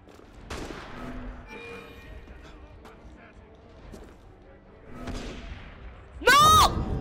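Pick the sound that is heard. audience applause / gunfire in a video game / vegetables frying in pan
gunfire in a video game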